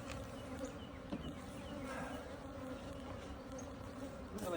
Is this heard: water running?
no